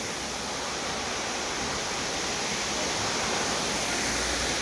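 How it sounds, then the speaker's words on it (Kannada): Honnamma Devi waterfall near Chikmagalur, a dense, loud, unbroken roar of falling water filling the whole scene, with no voices. "ಹೊನ್ನಮ್ಮ ದೇವಿ ಫಾಲ್ಸ್"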